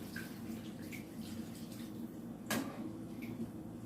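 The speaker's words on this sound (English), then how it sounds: "add some water." Water splashes and trickles softly into a pot of beef stew, with a brief sharper clatter partway through.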